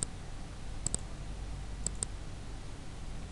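Sharp, faint computer mouse clicks while working in Illustrator, one at the start and then two quick double-click pairs, alone over a low steady room hum.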